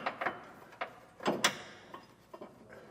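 Metallic clicks and scrapes as a 2.5-inch bolt is started into the frame of a 2022 Ford F-350 Super Duty, a handful of short irregular ticks and rattles, close and fairly quiet.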